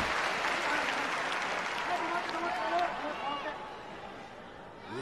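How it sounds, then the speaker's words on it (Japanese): Arena crowd at Ariake Coliseum chanting a wrestler's name during a Pro Wrestling NOAH title match, a loud, sustained roar with rhythmic vocal swells, dense and steady before easing slightly toward the end. "丸藤コールが有明コロシアムに起こっている。"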